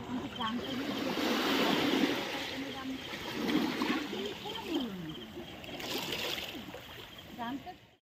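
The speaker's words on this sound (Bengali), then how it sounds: "সমুদ্রের আওয়াজ প্লাস ঝিঝি পোকার আওয়াজ দুটো মিলিয়ে দারুণ কম্বিনেশন তৈরি হয়েছে" Ocean waves wash steadily on a night shoreline, with thin cricket chirps scattered through the surf and faint murmuring voices in the background.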